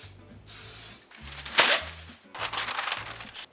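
A short hissing burst of cooking spray coats a loaf pan, about a second long, over background music with quieter kitchen handling before and after.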